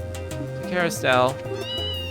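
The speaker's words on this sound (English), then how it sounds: "That's the cat, right?" A cat meows in the video game Trails in the Sky SC, a couple of close, whiny mews rising over a spoken line and soft background music.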